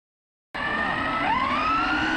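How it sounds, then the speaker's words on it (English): A Redcat Kaiju EXT 6S RC monster truck roars past after half a second of silence, its loud motor whine bending up and down in pitch as it passes close by. "Redcat Racing Kaiju 6S pass."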